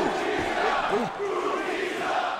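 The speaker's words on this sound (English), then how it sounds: "Then came a chant that embodied Batista's entire 2014 comeback run" A large WWE arena crowd during a Batista match in his 2014 comeback run, a loud, dense roar of many voices with rising and falling chant-like shouts throughout.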